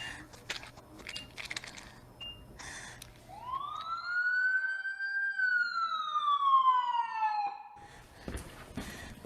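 Emergency siren in a naloxone virtual reality training scenario, a rising then steadily falling wail that swells loud and clear for several seconds after scattered background clatter, then cuts off.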